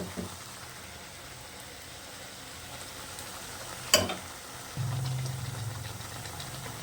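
Malpua batter frying in hot oil in a wok, a steady low sizzle with a sharp clink partway and a fresh burst of bubbling as more batter goes in, close and unvoiced.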